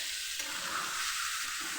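Mutton pieces fry in hot oil, a dense steady crackling sizzle heard up close for a brief moment with no voices.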